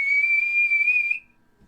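A single loud, steady whistle, voiced by a narrator imitating a ship captain calling down from the top of a ship, holds one pitch for just over a second, then cuts off into near silence.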